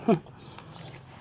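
A dog gives one short, loud howling cry right at the start, which quickly drops away into quiet outdoor background noise.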